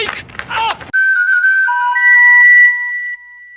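A short burst of rough vocal noise, then a shrill whistle blown hard, holding steady tones that step up in pitch before cutting off after about two seconds, close and loud.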